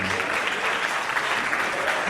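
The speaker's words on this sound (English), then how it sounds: "Please give him a huge round of applause." Applause fills the room after a young singer is introduced on stage at a live music event, a brief, dense burst of clapping from the crowd.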